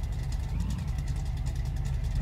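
Chad V8 car engine idling in My Garage, a steady low rumbling drone that stays even and close with no clear revving.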